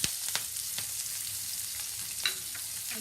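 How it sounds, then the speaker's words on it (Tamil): Chopped onion, green chilli and curry leaves with a pinch of asafoetida sautéing in a pan for green peas poriyal, with a steady close sizzle and a few sharp spatula scrapes and clicks. "எல்லாத்தையும் போட்டு நல்லா வதக்கிக்கோங்க."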